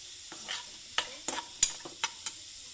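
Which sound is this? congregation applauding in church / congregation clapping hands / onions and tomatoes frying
onions and tomatoes frying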